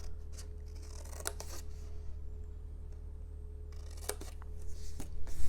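Scissors snip pieces off a paper diagonal flip box, a few crisp, close cutting sounds with rustling paper between them over a low steady background hum.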